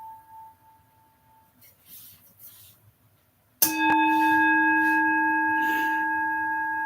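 A single screw-type meditation bell is struck once after a quiet pause, ringing out as a loud, clear tone that slowly fades while its resonance lingers, with faint background sound beforehand.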